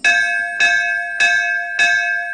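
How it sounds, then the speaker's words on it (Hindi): Four loud, evenly spaced strikes of a bell, each ringing with a bright metallic tone and fading a little before the next, clear and close with nothing else heard. "चौथी घंटी बजती है।"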